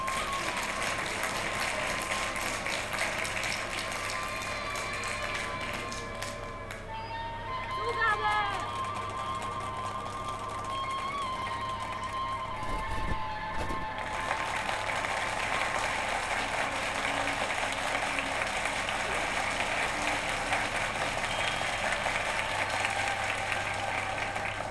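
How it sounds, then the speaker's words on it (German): Sustained applause in The Night of the Rabbit adventure game, a steady crowd clapping that runs the whole length with a brief dip partway, over faint mechanical ratcheting and background music. "Applaus, meine Herrschaften."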